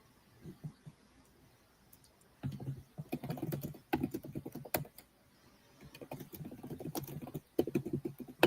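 Loud computer keyboard typing in bursts of rapid, clacky keystrokes, close and prominent, with short pauses between flurries and a few heavier thunks.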